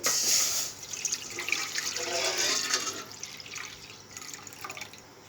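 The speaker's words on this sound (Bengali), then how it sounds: "এখন এটার মধ্যে দিয়ে দেবো কিছুটা পানি" Water pours into a kadai with a bright rushing splash that tapers off into softer trickling over a few seconds.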